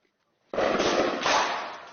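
A single sharp gunshot bursts from nearby during street fighting in eastern Mosul, its loud crack rolling into a long echoing rumble that fades slowly after a brief silence.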